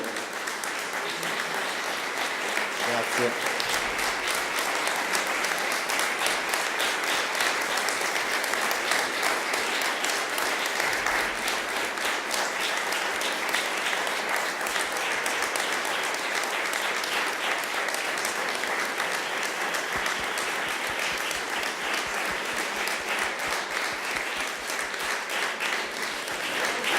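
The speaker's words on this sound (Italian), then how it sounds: "che invito ancora per un altro applauso meritatissimo" A concert audience at a Prosecco Classic Festival accordion and cello performance applauds for the musicians in a long, steady, dense ovation that stays loud throughout, with a brief spoken thanks near the start.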